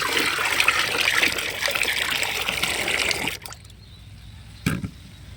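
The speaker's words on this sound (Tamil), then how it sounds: "தண்ணியை ஊற்றிக்கலாம்." Water is poured into a liquid fertilizer mix being made up to 20 litres, a full steady splashing stream for about three seconds that then stops, followed by a quieter lull and one brief splash.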